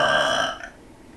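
A boy lets out a single deliberate burp, loud and close, with a throaty rasp that lasts about half a second before fading to quiet.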